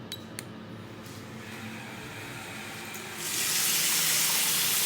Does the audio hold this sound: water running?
yes